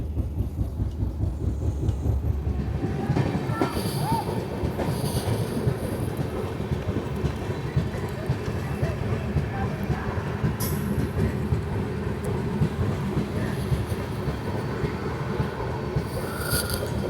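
The 17630 Hazur Sahib Nanded Hadapsar Express runs on the Nanded to Pune route near Kopargaon, heard from on board as a steady rumble of rolling cars with wind noise throughout and no voices.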